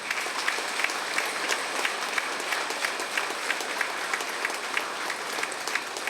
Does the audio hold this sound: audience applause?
yes